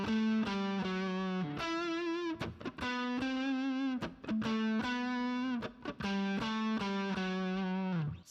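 Distorted electric guitar plays the chorus riff an octave higher, a steady sequence of sustained, gritty notes with brief gaps between phrases, loud and close with no voice.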